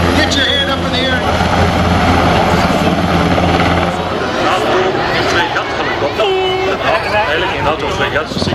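A Sea King helicopter flies at an airshow, its rotor and engine a loud steady thrum at first that eases partway, with an announcer talking over it and a crowd around.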